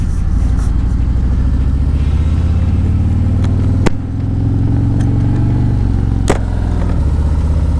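Motorcycle engine on a ride, heard as a constant low rumbling drone with wind noise and a couple of sharp clicks.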